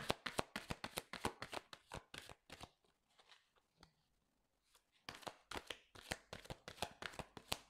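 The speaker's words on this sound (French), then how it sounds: "Alors, on va tirer une carte pour ça." Tarot cards are shuffled in quick riffling bursts, close and crisp, then a quieter pause with soft handling as a card is drawn, before rapid shuffling resumes.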